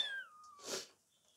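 A newborn barn kitten gives a single short, faint meow up close, a brief high cry in an otherwise quiet setting.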